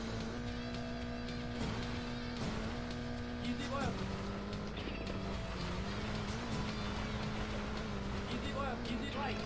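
Racing cars in the Sega Saturn game Bokan to Ippatsu, a steady loud electronic engine drone with shifting pitch running continuously over game music, no talk.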